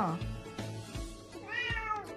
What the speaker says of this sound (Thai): แมวโวยวายขอกินครับแต่โวยวายสุด ๆ